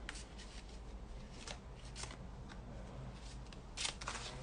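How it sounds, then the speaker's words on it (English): A deck of cards shuffled for a cartomancy reading, heard as several quick papery riffles and bursts. The loudest burst comes near the end, with no talk over it. "Let's give it a little shuffle."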